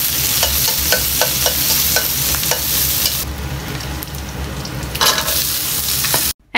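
Chopped onion, sliced green chili and vegetable stems fry in hot oil for lentil dal, sizzling steadily while a spoon stirs and scrapes the pan in quick repeated strokes, then the sizzle softens and briefly rises again.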